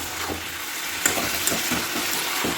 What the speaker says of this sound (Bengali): এখানে হচ্ছে ফুলকপি আলু ভাজা